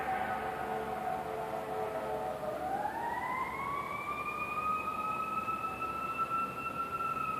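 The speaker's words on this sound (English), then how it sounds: "Geez, if it's not airplanes, it's sirens" An emergency vehicle siren wails continuously outdoors, its tone sweeping upward partway through and then holding a steady, fairly distant pitch over a low background rumble.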